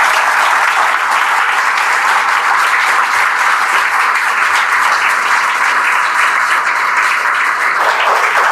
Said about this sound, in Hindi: एक बार जोरदार तालियों स्वागत कर दें।